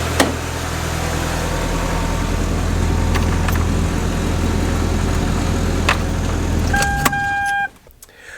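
A turbocharged Mitsubishi Galant running after a crank position sensor repair, steady close engine idle with a low drone, a few small clicks, then a whirring electric window near the end before the engine sound drops away.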